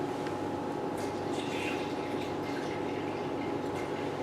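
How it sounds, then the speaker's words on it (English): Pure water poured into the tank of a cryolipolysis machine, a steady wet trickle running continuously over a low mechanical hum. "Okay, now we add the pure water."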